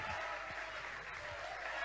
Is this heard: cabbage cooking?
no